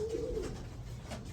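A racing pigeon in a champion loft gives one soft, close coo, short and alone against a faint background hum.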